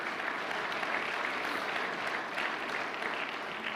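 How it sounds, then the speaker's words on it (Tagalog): People in an audience clap together, a thick, sustained patter of applause that stays even throughout, fairly loud and without speech. "Ay, nang pumalakpak mga tao rito."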